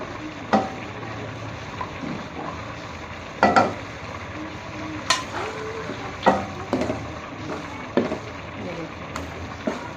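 Ghee sizzles in a pan with frying beef magaz, ginger and green coriander, a steady crackling fry broken by repeated sharp clacks of a spoon stirring and scraping the pan at uneven intervals.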